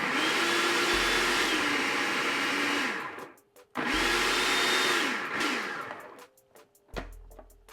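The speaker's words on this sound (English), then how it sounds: "put on our top to our food processor, and we're going to grind this up until those pickles are to a small little bits" A food processor grinds pickles in bursts: a loud, steady motor whir for about three seconds, a brief stop, a second run of similar length, then a short final pulse near the end.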